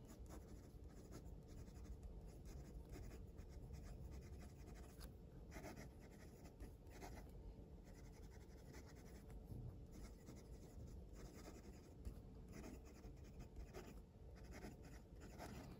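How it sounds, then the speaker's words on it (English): A stainless steel fountain pen with a medium nib scratches softly across paper in a steady, continuous stroke, faint and close, with no voice. "So anyway, let's do some writing."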